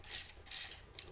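Three quick bursts of ratchet clicking snug the slip-on exhaust bolts on a motorcycle, close and fairly quiet.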